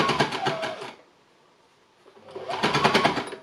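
A sewing machine stitches embellishment through two layers of linen, running in a steady whirring burst, pausing for about a second and a half, then starting up again with a slightly laboured, dense mechanical chatter.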